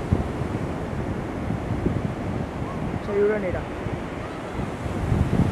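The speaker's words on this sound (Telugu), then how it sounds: "చూడ పెద్ద అవుతున్నాయి అలలు అయితే" Sea waves breaking on the shore at Pakala beach, Andhra Pradesh, a steady roaring surf with strong wind buffeting the microphone, and someone speaking briefly over it.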